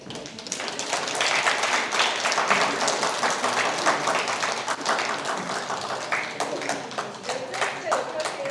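Audience applause at an award ceremony for an independence activist commemoration, with dense clapping building quickly and staying loud and steady for several seconds.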